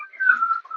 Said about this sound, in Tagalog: Oy, naay pito.